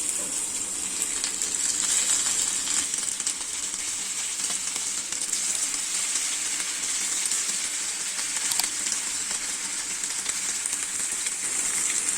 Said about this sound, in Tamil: ஆயில் நல்லா ஹீட் ஆனதுமே இந்த நெத்திலியை ஒவ்வொன்றா எடுத்து இதுல போட்டுடலாம்